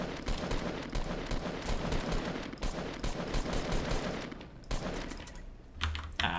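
Assault rifle gunfire in Fortnite, dense rapid bursts of shots and clicky game effects running nearly continuously, close and loud, with a short break near the end.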